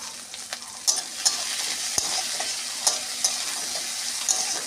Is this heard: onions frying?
yes